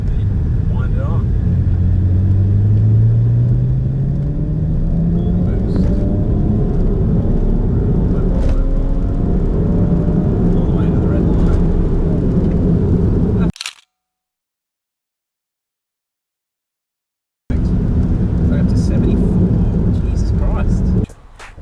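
A car engine accelerates hard in a single gear toward redline, the rising whine climbing steadily and loudly before the sound cuts out for a few seconds, then a steady engine drone resumes.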